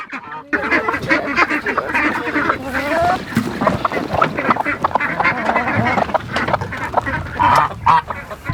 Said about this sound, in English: You can hear those ducks. They've got that duck quack.